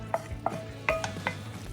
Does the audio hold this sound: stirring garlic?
yes